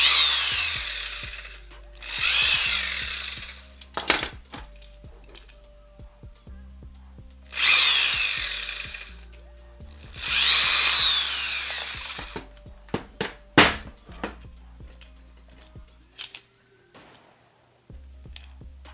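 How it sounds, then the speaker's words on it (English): A power drill bores holes through a part during an Ender 3 3D printer conversion to Core XY, whirring in several loud bursts separated by quiet gaps filled with clicks, taps and handling noises. "I'm gonna have to drill holes through this again too."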